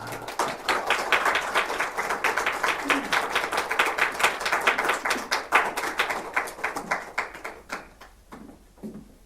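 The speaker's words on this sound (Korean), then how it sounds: "우리 나오실 때 뜨겁게 환영하며 박수로 환영해 주시면 감사하겠습니다" A church congregation welcomes a guest preacher with clapping that starts strong and steady, holds as a dense patter of many hands, then thins out and fades near the end.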